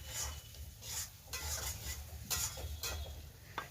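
Food cooking in a pan is stirred in bursts of scraping strokes, with a soft sizzle and occasional utensil clinks between them.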